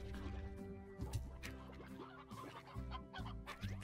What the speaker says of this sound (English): I hear chickens, but I don't see chickens.